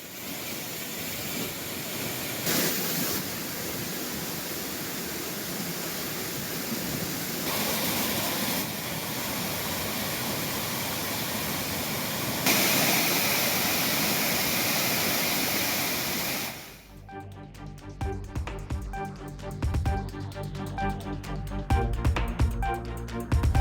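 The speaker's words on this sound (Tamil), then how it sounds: "திருப்பரப்பு அருவியில் ஆர்ப்பரித்து கொட்டும் தண்ணீர்" Water swollen by heavy rain roars down Thirparappu waterfall in a loud, constant rushing wash. After about 17 seconds it gives way to a different, quieter broadcast background.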